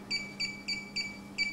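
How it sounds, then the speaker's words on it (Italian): Bug detector device giving five evenly spaced, sharp electronic beeps, each short and tonal, over a low steady hum with no one talking. "il beep dell'apparato"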